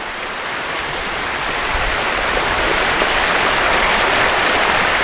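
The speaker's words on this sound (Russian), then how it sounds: "И возникает этот водопад." Waterfall pouring below a small dam in southern Bohol, Philippines, a steady broadband roar of falling water, close and loud, continuous with no pauses and no voices.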